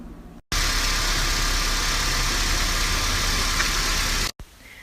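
Honda Element engine running steadily at close range, a loud, continuous idle drone that cuts in abruptly and stops just as sharply near the end.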